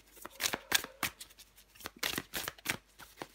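Tarot cards shuffled by hand in a close, crisp series of riffling bursts and soft slaps, an irregular rhythm of quick card flicks across a few seconds with no voice.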